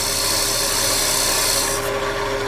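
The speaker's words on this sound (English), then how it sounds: "I'm going to make one more cut down at the bottom. The narrow parting tool again." A narrow parting tool cuts into the bottom of a wooden snowman Christmas tree ornament spinning on a lathe, giving a steady, loud, continuous rasping hiss that stops abruptly near the end.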